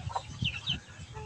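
Live chickens and fighting roosters on a Filipino farm cluck in short, repeated bursts, several birds calling close by in an irregular, busy rhythm with no talk.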